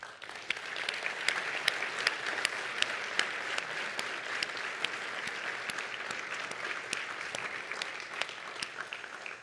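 Sustained applause from an audience at a 2024 State of the City address in an Arizona city, dense steady clapping with sharp individual claps standing out, continuing evenly throughout.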